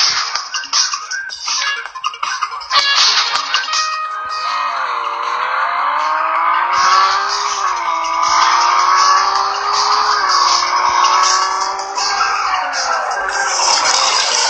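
Several racing car engines roar loudly together at the start of an online race in the mobile game Real Racing 3, rising and falling in pitch as the cars accelerate, with a steady dense engine drone throughout and no talk.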